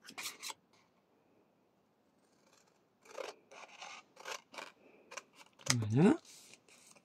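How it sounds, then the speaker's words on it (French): Scissors snip through paper while making a shabby vintage scrapbook album corner or card, a few crisp close cuts, the loudest near the end, between quiet French speech. "Je coupe."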